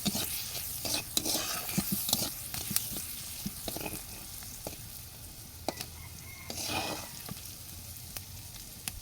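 Turmeric powder being stirred and fried in a pan while making a village-style taro leaf mash, spoon scraping and clinking against the pan over a constant soft sizzle, with irregular louder stirring strokes.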